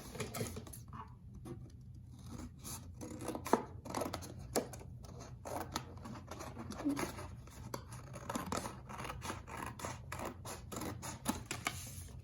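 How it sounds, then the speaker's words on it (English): Scissors cutting along the middle fold of unfolded paper, repeated soft snips and paper rustle close by over a low steady hum, with a voice speaking at times. "And then unfold it and cut along the middle fold."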